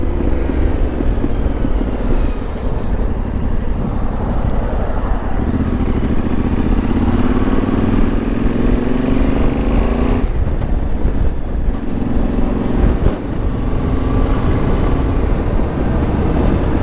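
An adventure motorcycle riding along country lanes in North Essex, its engine drone steady and continuous under heavy wind buffeting on the microphone, with small pitch shifts as the speed changes.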